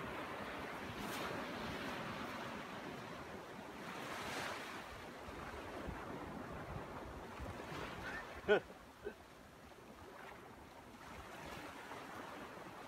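Sea waves wash steadily onto the beach at Rayong, Thailand, a continuous soft roar of surf with wind noise on the microphone and a couple of brief knocks near the end.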